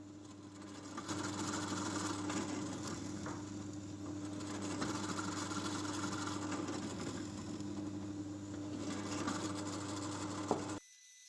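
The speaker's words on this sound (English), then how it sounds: "I then jigged up the drill press and drilled 4 holes in every block for the mounting screws" A drill press runs in a workshop, drilling mounting-screw holes into wooden blocks for a children's table: a steady motor whine with a low hum that holds for about ten seconds, then cuts off abruptly.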